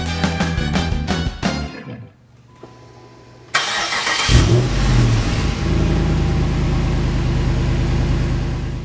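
A 2008 Jeep Grand Cherokee SRT8's 6.1-liter Hemi V8 barks through sharp revs, drops to a near-silent pause, then fires up and settles into a loud, steady rumble close by, with no talking.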